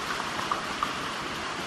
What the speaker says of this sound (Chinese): 你看这雨下在外边，